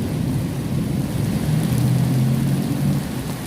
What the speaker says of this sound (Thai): โอ้เสียงฟ้าร้อง